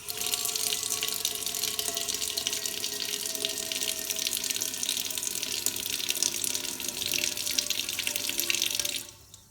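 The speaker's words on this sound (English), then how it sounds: "place a bucket underneath the dispense head and then press and hold the carb button, and we need to dispense a full 15 litres from the furthest dispense head" Carbonated water gushes from a bar dispense head into a bucket in one continuous, loud, fizzing stream that lasts several seconds and then cuts off suddenly. No voices are heard.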